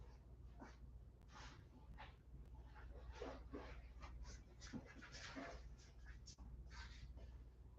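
A dog pants rapidly and close up, in a string of quick breathy bursts over a steady low hum.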